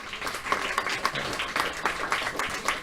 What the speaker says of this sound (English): Let's call another round of applause for Ricardo and Andres